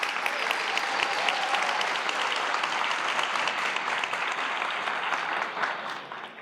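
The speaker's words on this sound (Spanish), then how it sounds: "así que les pido un aplauso para la organización." Sustained applause from a conference audience for the event organizers, dense and steady throughout before easing slightly at the end.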